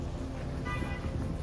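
A brief car horn honk sounds over steady road traffic noise, heard at a moderate distance.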